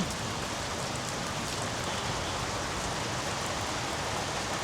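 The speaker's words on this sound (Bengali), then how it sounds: "খুব সুন্দর একটা বৃষ্টি হচ্ছে" Steady rain pours down in an even, dense hiss, close and continuous with no other sounds standing out.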